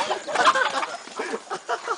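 Chickens with a rooster inside a backyard coop, with several short clucking calls in an uneven rhythm at close range and no talk over them.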